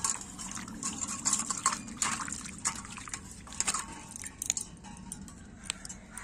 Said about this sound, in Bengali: আজকে চটকে চটকে মাখা হবে।